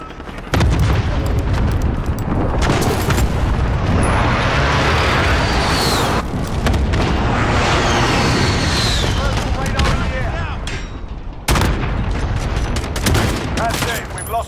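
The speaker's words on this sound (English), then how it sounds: "Be advised, friendly precision airstrike inbound." Precision airstrike in Call of Duty: Modern Warfare: a string of heavy booming blasts and rolling detonations mixed with gunfire, loud and continuous, with game voice callouts over the chaos.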